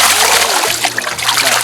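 Water splashes and sloshes loudly and close as a scoop net is pulled through a fish pond on a farm, a brief churning burst with dripping.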